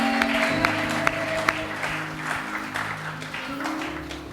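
Congregation at an Easter Sunday church service applauding together, a steady, even wash of clapping with a few sharp individual claps over sustained organ or keyboard tones.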